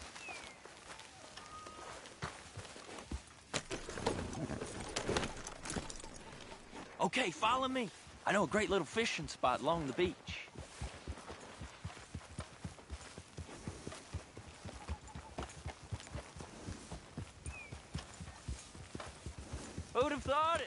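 Horse hooves clip-clop steadily at a walking pace in the Red Dead Redemption 2 video game, several horses riding toward a fishing spot along a beach. The hoofbeats sound close and rhythmic, with character dialogue spoken over them.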